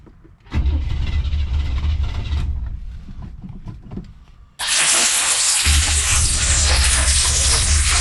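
A 1968 Cadillac engine runs rough, with a low uneven idle rumble that gives way to a loud, harsh burst of broadband roar midway through, close and continuous, with no talking.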